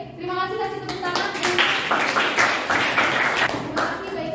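Classroom clapping from a group of students, a burst of scattered hand claps of moderate loudness over a few seconds, with voices and children's chatter mixed in.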